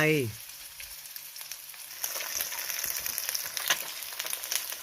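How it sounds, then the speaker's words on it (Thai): Marinated pork and eggs fry in a pan, a steady crackling sizzle that picks up and stays moderate after a short opening sound, with no one speaking. "จากนั้นใส่หมูหมัก เติมไข่ลงไป"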